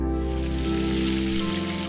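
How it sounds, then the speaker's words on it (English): Frying meat sizzles as a sound effect in a visual novel, a steady crackling hiss lasting under two seconds over sustained tonal music. "Soon I heard the sizzling of frying meat"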